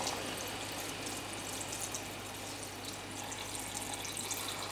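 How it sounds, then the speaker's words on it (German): Water poured into a pot of fish bones to make fish stock, a steady, even rushing and splashing stream that continues without pause at moderate loudness. "Und auffüllen mit Wasser."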